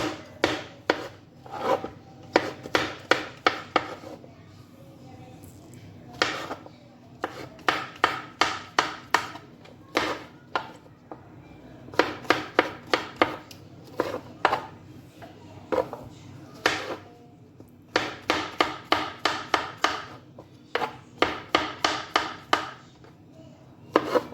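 Bursts of rapid knife chopping of mushrooms on a cutting board, steady taps in clusters separated by short pauses, close and distinct.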